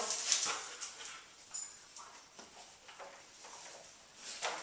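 A dog whimpers softly during kennel training, thin high whines rising and falling in short bursts, faint and close in a quiet room.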